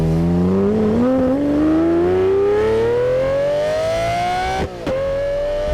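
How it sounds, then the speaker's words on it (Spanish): Lamborghini Murciélago SV V12 climbing steadily through the revs in one long, loud rising howl, then a sharp gear-change stutter before pulling high again. "este V12 no se escucha como un motor normal"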